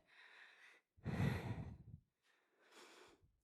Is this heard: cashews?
no